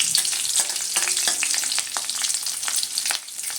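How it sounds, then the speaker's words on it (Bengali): Green chillies and panch phoron sizzle and crackle steadily in hot oil while a utensil stirs them, with scraping strokes over a continuous close fry. "ওই তেলের মধ্যে দিয়ে দেব 1/2 চামচ মতো পাঁচফোড়ন। আর দিয়ে দেবো বেশ কয়েক পিস, মানে 7 থেকে 8টা মতো কাঁচা লঙ্কা"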